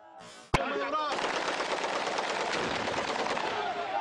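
Insurgent gunfire in Libya: one sharp shot, then sustained rapid automatic fire that rattles on without a break, loud and close, with a brief voice-like sound before the burst.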